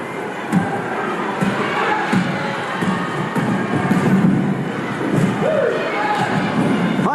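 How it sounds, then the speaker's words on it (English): A cartoon arena crowd roars and cheers in welcome for the Milktrotters, a dense steady wash of voices with a few thumps, carrying the slightly muffled, worn sound of an old VHS tape. "What a welcome the crowd is giving the Milktrotters today."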